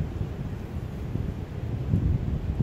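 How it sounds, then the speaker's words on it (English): Wind buffets a microphone in low, rumbling gusts that rise and fall over a few seconds, with no other sounds standing out. "Sorry for that wind"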